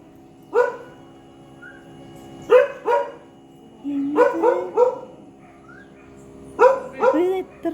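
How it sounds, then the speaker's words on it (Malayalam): Dogs bark in scattered bursts, single and double barks, moderately close, with quiet pauses between them. "പട്ടികളുണ്ട് ഇവിടെ"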